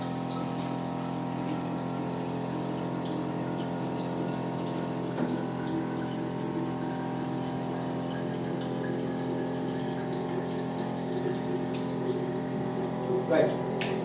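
Water runs steadily through a Kangen water machine, fed by pipe and motor, as a constant humming flow with a faint pump tone beneath it for about fourteen seconds.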